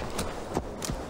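Hooves of a horse in Assassin's Creed Valhalla clip-clop in a quick, steady rhythm over a constant background hum, with no one speaking.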